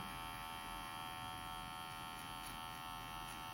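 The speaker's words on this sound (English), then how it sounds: "Just try to take all the lines out, flick out, using the corner of the clipper." An electric hair clipper runs continuously during a haircut, a steady close buzzing hum with faint fluctuations and no talking.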